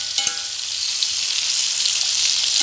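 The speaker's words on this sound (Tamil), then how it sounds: "ஒரு கொஞ்சம் வேக விட்டுட்டு இந்த மாதிரி நல்லா கலக்கிக்கலாம்" Sliced plantain fries and sizzles steadily in hot coconut oil, a close, continuous crackle, with a couple of faint scrapes from stirring near the start.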